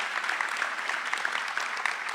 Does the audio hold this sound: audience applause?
yes